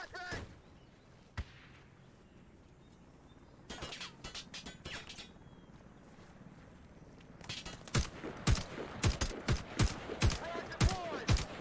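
Video game combat sounds, including a flashbang grenade and gunfire. A sharp isolated bang comes first, then after a quieter stretch sparse shots give way to a dense burst of rapid loud reports near the end.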